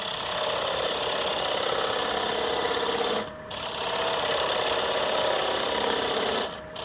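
A wood lathe runs with a loud, continuous whirring hum as a small spindle gouge hollows a wooden bowl. The drone holds steady, dropping briefly twice when the cut pauses.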